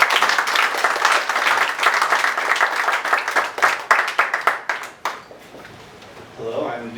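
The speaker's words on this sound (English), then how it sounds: "Let's give him a round of applause." An audience at an author event breaks into applause, a dense burst of clapping that thins out and fades after several seconds, followed by a faint voice beginning to speak.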